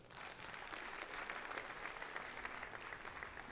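Steady applause from a stand-up comedy club audience fills the room, a dense, even wash of clapping that holds at a moderate level throughout with no voices on top.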